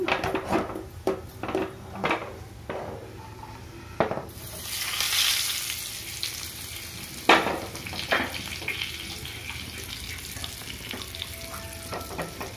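Hot oil sizzling as spices are tempered with turmeric for ajwain-leaf chutney, with scattered spoon clinks and scrapes; a louder burst of frying hiss flares up midway, then settles.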